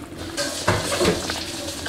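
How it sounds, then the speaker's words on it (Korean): Dishes being washed at a home kitchen sink in Fairfax while a soy-braised chicken dish simmers nearby; scattered clinks and clatters of dishware and cutlery over steady running-water and stovetop background, no talk. "옆에서 남편이 설거지 하고 있어서 시끄러워요"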